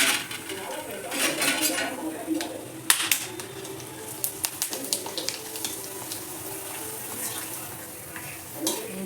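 Sabudana and potato papad fry in hot oil, bubbling and crackling with a scatter of sharp pops and clicks from turning in the pan.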